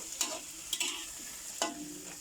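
Shrimp stir-fried with Thai roasted chili paste and stink beans in a pan, giving a few sharp scraping stirs at a near distance over a soft, steady sizzle, with no one talking.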